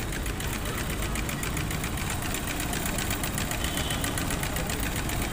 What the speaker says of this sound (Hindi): ये आपने ऐसा देखा है इंजन घूमते हुए।